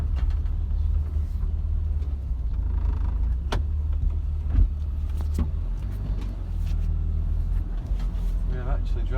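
Classic Mini car being driven, with low engine rumble and road noise from inside the cabin running continuously, a few knocks and clicks over it, and a person talking throughout.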